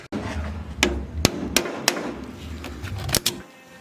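Sharp metallic hammer strikes ring out on a wedge at a riveted wing window of a 1970 Chevrolet Nova, about six blows spaced unevenly over a low background hum.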